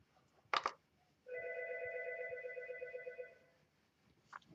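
Algo 8180 ringer set to a low volume, sounding one sustained electronic ring tone of about two seconds, quiet and clean, between soft knocks and handling noises.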